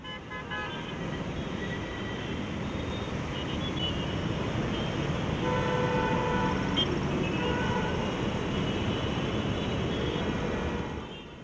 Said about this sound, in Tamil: சாலையில் போக்குவரத்து நெரிசலும் அதிகரித்து வருகிறது